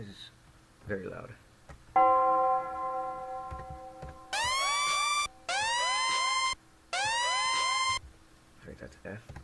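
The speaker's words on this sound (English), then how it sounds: "Let's get our siren." Synth siren tones in an FL Studio trap beat sweep upward in three repeated bursts after a sustained chord, loud and electronic over a quiet low pulse, with brief talk at the start and end.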